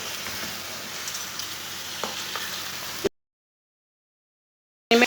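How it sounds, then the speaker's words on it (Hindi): Chopped onions and garlic fry in oil for a mutton karahi with a soft, even sizzle and occasional light stirring taps for about three seconds, then sudden silence before a brief loud burst at the very end. "लहसुन डाल के दोबारा इसे 3 मिनट के लिए भून लेंगे।"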